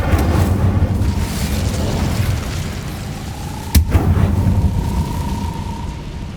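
An Incendio fire spell cast in a Harry Potter video game: a continuous roaring, rushing blast with a sharp, loud burst just past the midpoint, followed by a steady hum.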